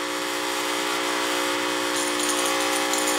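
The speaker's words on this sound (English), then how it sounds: "let me turn off the steam" A coffee machine running off a lithium trolling battery blasts steam in a loud, continuous hiss with a steady tonal whine, growing slightly brighter partway through.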